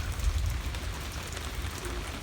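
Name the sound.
slow light rain falling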